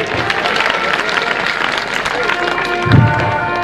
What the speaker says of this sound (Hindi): एक बार पुनः ताली बजाते हुए स्वागत करेंगे